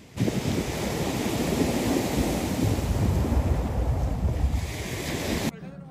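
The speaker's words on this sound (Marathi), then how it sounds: "लाटांचा येणारा आवाज मंत्रमुग्ध करणारा आहे." Ocean waves washing onto a beach on Whidbey Island, Washington, a loud continuous roar of surf mixed with wind buffeting the microphone, cutting off abruptly near the end.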